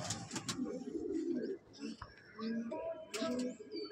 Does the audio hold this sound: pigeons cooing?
yes